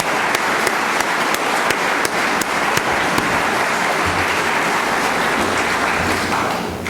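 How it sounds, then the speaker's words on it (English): Sustained audience applause at a public event in a library setting, a dense, steady wash of many hands clapping that stays loud and even for the whole stretch with no talking over it. "Let's give another round of applause for Villa Park."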